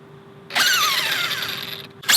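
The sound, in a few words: motor whine of Arrma Kraton EXB RC car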